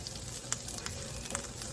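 Onions frying in a pan over medium-high heat, a soft continuous sizzle with a few faint crackles, quiet and close, no voices.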